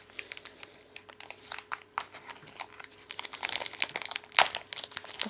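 Plastic wrapping on a packet of glitter powder from a craft kit being opened, irregular crinkling and crackling bursts that grow busier and louder toward the end, close to the microphone, no talk.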